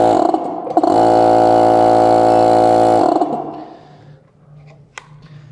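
A compressor kicks on with a loud, steady mechanical hum lasting about two seconds, then winds down into a quiet low drone with a small click near the end.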